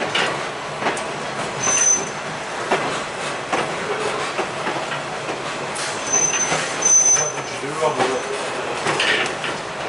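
A ride on the Oklahoma Railroad Museum train, pulled by a Katy SW8 locomotive: railcars rumble and rattle over the track, with metallic wheel squeals and clunks throughout and faint voices in the background.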